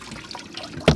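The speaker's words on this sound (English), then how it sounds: "You can then give that a good slosh around so it gets through all the different nooks and crannies in the bladder." Fresh water sloshes inside a scuba BCD bladder, a soft liquid wash building to a louder splashing burst near the end, close and alone without talk.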